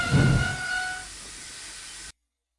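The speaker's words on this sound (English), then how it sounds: "At last, battered, weary, but unbeaten, Edward steamed in." A steam train hisses loudly as it pulls in, with a brief whistle-like tone early on, then settles into a steady hiss before cutting off abruptly.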